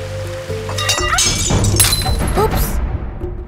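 A plate breaks while dishes are washed on a slippery spot at a village home, giving a loud shattering crash followed by scattered clinking fragments, close and prominent.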